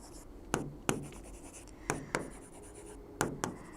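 Marker strokes draw a tertiary alkyl halide structure during a chemistry lesson: quiet, close, sharp taps and short scratches in pairs separated by brief pauses, with no talking.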